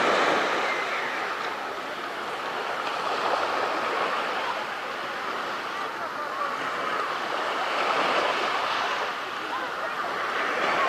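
Sea surf rolling steadily onto the beach at Tuapse, a continuous broadband wash of waves with gentle swells in loudness, with no clear talk over it.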